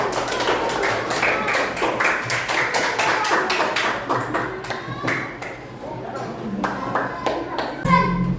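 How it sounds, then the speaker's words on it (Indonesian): Children in a classroom clap together for a group, a lively burst of quick, uneven hand claps with young voices chattering underneath. "Tepuk tangan untuk kelompok."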